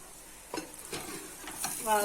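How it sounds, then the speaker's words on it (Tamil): Okra coated in besan frying in hot oil in a covered pan, a brief close sizzle with a stirring scrape and rising crackle, no talking. "அந்த ஆயிலே அது நல்லா ஃப்ரை ஆயிடும்"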